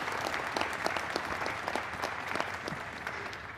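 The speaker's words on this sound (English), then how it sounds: "a big round of applause" A crowd applauds sponsors, the National Guard and volunteers at a New York meal-distribution press event, with moderate, steady, evenly sustained clapping from start to finish and no talking.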